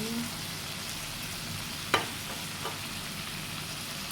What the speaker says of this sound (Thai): ตามด้วยพริกสดนะคะพริกสดใส่ลงไปเลย คนคนนะคะ